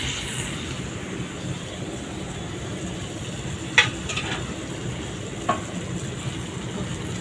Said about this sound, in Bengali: এই ভাজা ভাজা হয়ে যাবে, পেঁয়াজটা ভাজা ভাজা হলেই